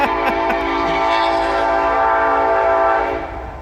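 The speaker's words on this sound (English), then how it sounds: "that's the train telling me that I've been talking too long." A loud, sustained train horn blares close by in rural Tennessee, a steady multi-tone chord holding for over three seconds before cutting off, with no talking over it.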